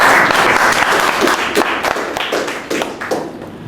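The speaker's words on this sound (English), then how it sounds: "So one applause for Crystal." An indoor audience claps in a steady burst of applause for a volunteer at a condo recycling talk, loud and close, gradually thinning toward the end.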